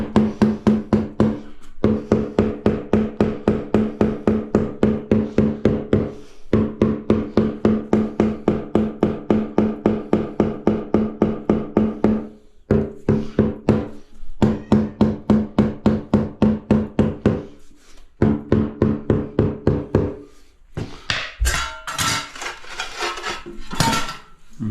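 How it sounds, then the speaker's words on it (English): Rapid, steady tapping of a rubber mallet setting tiles on a screeded shower base, in long runs with brief pauses, loud and close, then a looser stretch of knocking and scraping near the end. "Where's my rubber hammer?"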